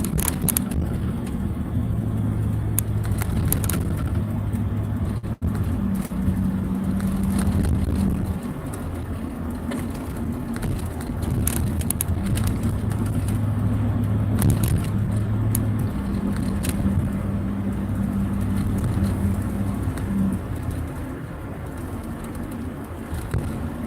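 A vehicle rolls through a commercial district, its low steady engine and road rumble continuous and close, with pigeons cooing intermittently in the background.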